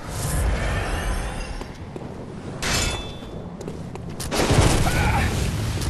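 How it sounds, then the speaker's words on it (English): Shotgun blasts in the video game Bloodborne: heavy booming shots and thuds over a dense, noisy game soundscape, with a few loud bursts spread through the clip. "Dude, lay off with the shotgun, man."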